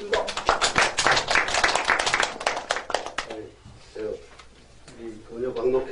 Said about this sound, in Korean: 박수로 청해 드리겠습니다